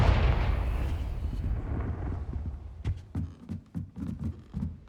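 Confringo explosion spell in the game Hogwarts Legacy, a loud booming blast that rolls and fades over a few seconds, followed by scattered crackling debris pops.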